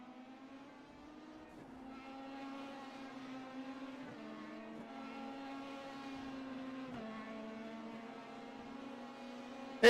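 Race car engines drone steadily at high revs on a track, one loud continuous tone that steps in pitch with gear shifts, near and alone.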